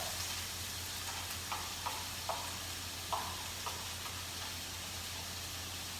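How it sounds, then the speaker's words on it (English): Chopped onion hits a hot pan and sizzles with a steady hiss, broken by a few soft ticks and pops of stirring, quiet and close. "so let's throw in our onion."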